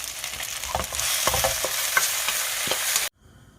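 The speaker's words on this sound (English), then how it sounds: "After 1 minute, mix the noodles and vegetables." Noodles and vegetables stir-fried in a hot pan, a loud sizzle with scraping stirs and clatters for about three seconds, then cutting off abruptly to near silence.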